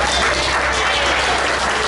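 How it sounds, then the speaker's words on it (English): A Baptist church congregation at St Mark Baptist Church gives a brief burst of dense, loud applause, an even wash of clapping from many hands. "A great big hand and round of applause for that rich word that she has given us all today"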